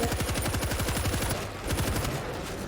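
Rapid machine gun fire in World War Z: Aftermath, a loud, steady stream of closely spaced shots that rattles on without a break.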